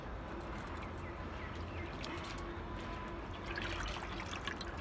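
Water trickling and dripping steadily as washed urad dal is drained through a basket, a close, continuous splashing with no talk.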